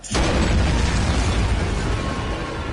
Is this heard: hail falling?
no